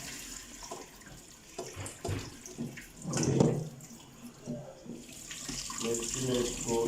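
Tap water runs through a large strainer as something is rinsed, a splashing flow that rises and falls in bursts, with a voice talking over parts of it.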